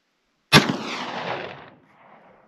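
A single loud shot from a 20 gauge Citadel Boss SS coach gun firing a rifled slug outdoors, with a long rumbling echo trailing off and a quieter tail after, with no voices.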